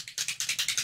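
A Mica Stain spray bottle is shaken under a table, giving about seven quick rattling clacks in a fast even rhythm, muffled and fairly faint.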